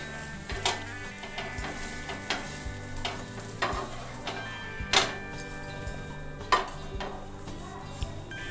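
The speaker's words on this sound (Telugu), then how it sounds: "దోశ రెండో వైపు తిప్పేసుకుందాము దోశను." Rava dosa sizzles softly on a hot pan after being flipped, a faint steady frying hiss broken by a few sharp taps of a spatula or utensil against the pan, with no talking.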